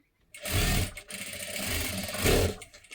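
A sewing machine runs in short bursts while stitching right along the edge of a puff sleeve, its steady close-up whir pausing briefly between runs.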